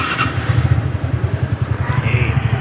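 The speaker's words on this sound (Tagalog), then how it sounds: "So testing natin kung maingay pa ba yung makina." A TVS Ntorq scooter engine runs steadily after a tune-up, a close, even low throbbing idle with a smooth rapid pulse and no rattle, heard alone for a few seconds.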